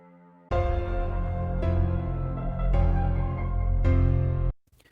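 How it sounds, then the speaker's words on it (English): A low, buzzy synthesizer grinds in four sustained bass notes, each starting abruptly and holding a gritty, harmonically rich drone before cutting off. "I think we need some kind of low, bassy kind of grind just to give this thing some depth."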